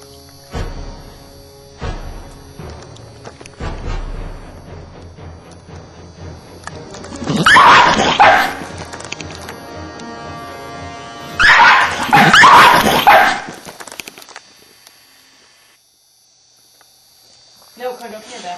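A dog barks and yips at an iguana in two loud, close bursts of rapid barking with whimpers in between, while people talk over and around them.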